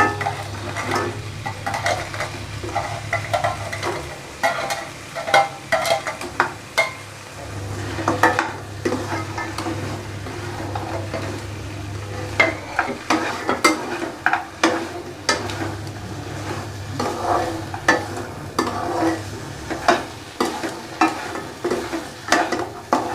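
Crab pieces stirred and fried in a thick sautéed masala for a Tamil-style crab rasam, with steady sizzling, a spoon scraping and clattering against the pan, and a low hum running underneath.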